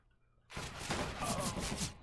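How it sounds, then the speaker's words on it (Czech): Gunfire in a first-person shooter video game erupts suddenly after a quiet moment as a sustained burst of loud shots that lasts to the end. "on už do mě střílí"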